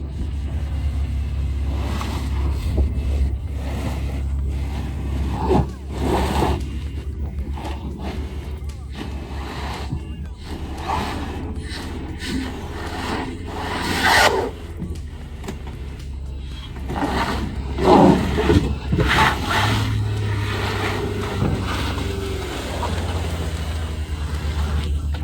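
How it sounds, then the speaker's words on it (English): Two BYD Leopard 5 SUVs pushing through slippery mud, a low engine rumble with surges and squelching tyre noise, fairly close and steady. "two BYD Leopard 5 SUVs push forward together across the slippery mud road terrain"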